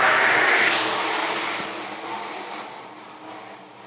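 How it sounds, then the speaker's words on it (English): IMCA Sport Modified race cars on the dirt oval at Phillips County Raceway make a loud, broad engine roar at the start that fades steadily as the pack moves away. "20 laps of IMCA Sport Modified Racing coming at you at Phillips County Raceway."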